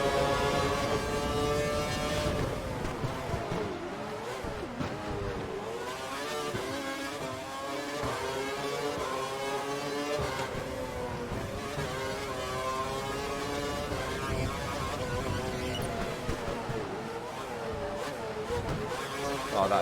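A race car engine in the F1 game drones steadily through a hot lap, its pitch sliding up and down through gear changes and braking, loud and continuous, with a voice talking over it.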